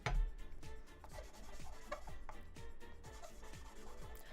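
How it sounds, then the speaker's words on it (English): Resin dice rubbed back and forth across sandpaper, a steady series of close, gritty rasping strokes in an even rhythm with no talking. "This one's obviously gonna need to get sanded down a little bit more though"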